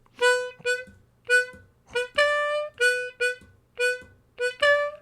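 Harmonica playing a riff in a shuffle rhythm, bright separated draw-and-blow notes in short repeated bursts with gaps between, close and clear with no talking.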